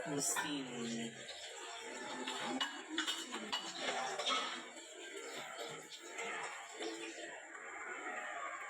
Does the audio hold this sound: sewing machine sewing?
no